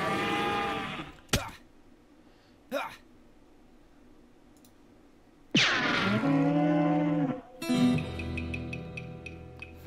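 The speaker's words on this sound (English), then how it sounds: "You defeated that nasty cow skull floating in a cloud of flame" Cartoonish cow moos from a floating cow-skull enemy in the West of Loathing video game, one long moo mid-clip among clicky game sound effects and short bursts, with quiet gaps between.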